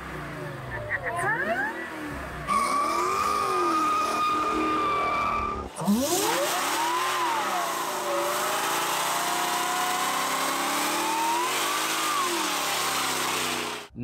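A car fitted with a Whipple supercharger and long tube headers cruises by with a rising and falling engine note and a high supercharger whine, loud and close, shifting through revs, with a brief voice.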